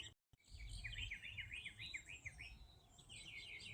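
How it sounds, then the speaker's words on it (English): Mockingbirds sing in a garden, a clear run of repeated chirping phrases heard at a moderate distance over a low outdoor rumble, with no talk. "you can really hear the mockingbirds singing today"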